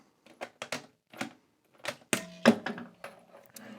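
Keys unlocking a palm vein biometric gun safe, a close series of sharp metallic jangles, clicks and thunks in irregular bursts, ending with a louder latch clunk.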